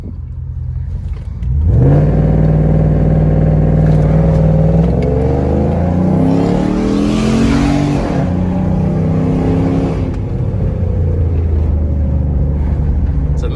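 A Jeep Commander with a new intake manifold and a 95mm throttle body accelerates hard uphill. The close engine note climbs steadily through the revs over several seconds, then eases to a lower, steady drone.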